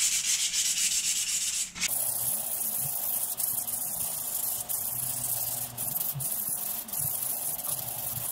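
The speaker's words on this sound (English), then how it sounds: "Then just rub off all the loose surface rust." Loose surface rust is rubbed off metal rods with 240-grit wet and dry paper in a close, dry, scratchy back-and-forth stroking. The strokes repeat in short rhythmic passes with brief pauses between them, and no one speaks.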